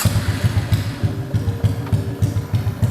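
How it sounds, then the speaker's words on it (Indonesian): Custom Streetcub 125cc motorcycle idling close by, a steady, rhythmic low thump-thump of the small single-cylinder engine running smoothly with no one speaking. "Oke cuy, coba kita hidupin ya"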